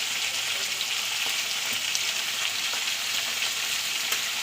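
Papaya and potato pieces fry in a pan, a steady bright hiss of oil with soft scraping strokes of stirring, close and continuous for the whole stretch, no voices.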